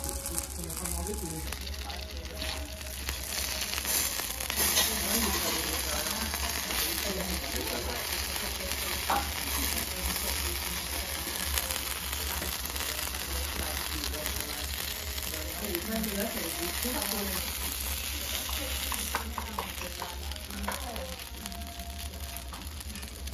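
Okonomiyaki with red shiso and nama-fu on a hot griddle gives off a continuous close sizzle and crackle, with people talking quietly over it.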